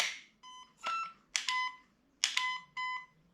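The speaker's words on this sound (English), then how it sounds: "Then we get to 3 beeps." A series of short electronic beeps in quick groups from a Zion Arms R15 airsoft rifle, sharp and tonal, close up with brief pauses between them and no talking.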